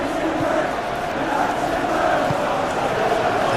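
Simulated stadium crowd in a Premier League football match video game, Manchester City against Bournemouth, a continuous dense roar of many voices holding at an even level with no clear breaks.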